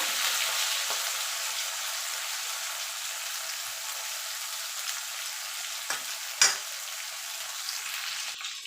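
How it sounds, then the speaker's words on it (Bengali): Okra frying lightly in hot oil makes a continuous bright hiss and crackle, fairly quiet but close, with a couple of short clinks from a utensil near the end. "ভেন্ডিগুলো দিয়ে হালকা করে ভেজে নেব"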